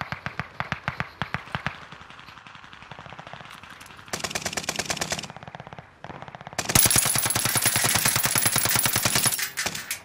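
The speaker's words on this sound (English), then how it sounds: "I have to move because they're shooting at me" Machine gun fire in Call of Duty: Modern Warfare rattles in fast, evenly spaced bursts, some lighter and some heavier, with a loud sustained burst near the end and brief pauses between strings of shots.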